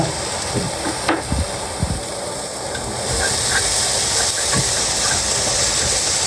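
Ginger paste sautéing in a pan while turkey biryani is cooked, a steady broadband hiss and sizzle that swells louder midway, with a few soft clinks and scrapes of utensils up close.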